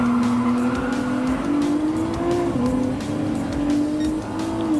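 A Nissan GT-R GT Academy Edition race car in Gran Turismo Sport holds a steady, droning engine note that rises and dips slightly with throttle, with faint tire noise and no talking.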